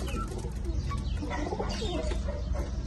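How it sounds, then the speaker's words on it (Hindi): Teddy and golden pigeons kept in cages coo softly and repeatedly, with other birds chirping faintly amid a low, continuous background rumble. "ये नीचे कबूतर वगैरह रखे हुए हैं, टैडी कबूतर हैं, पैडी हैं सारे, कुछ गोल्डन है"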